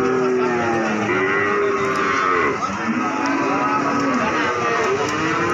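F1 calves lowing at a cattle market during heavy rain, overlapping drawn-out moos from several animals close by over a constant rain hiss.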